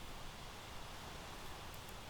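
Rain falls steadily in a video game as a soft, even hiss that stays faint and constant throughout, with no voices.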